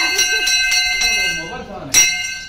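A bell rings repeatedly at a child's rice-feeding ceremony in Odisha, bright metallic strikes about every quarter second with ringing overtones, a louder strike near the end, under steady talking voices.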